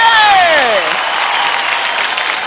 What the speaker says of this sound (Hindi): जोरदार ताली हो जाए मनन और सुमेध के लिए